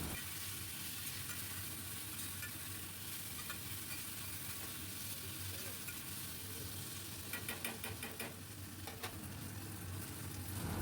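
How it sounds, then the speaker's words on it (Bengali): Onion and tomato sautéing in a pan with ginger, garlic and green chili paste, giving a steady low sizzle with occasional stirring scrapes toward the end, with no talking over it. "খুব ভালো করে মশলার সঙ্গে টমেটো আর পেঁয়াজ কষাতে থাকবো।"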